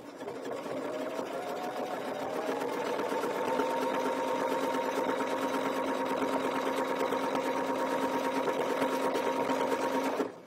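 A domestic sewing machine runs steadily, stitching a quilt guided by a ruler, with a continuous even motor hum and rapid needle rhythm held close and fairly loud throughout, alone without talk.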